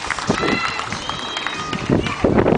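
Audience at a seal show applauding and cheering, a dense wash of clapping and excited voices with a shout rising near the end, loud and close.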